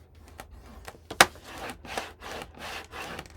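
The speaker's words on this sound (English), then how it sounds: "When I fold it, I'm going to make sure I match up the edges and burnish." Folded paper for a scrapbook album is burnished with a tool, giving repeated close scraping rubs in a steady back-and-forth rhythm with one sharp click.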